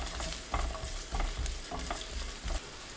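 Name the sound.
garlic stir-frying in olive oil in a pan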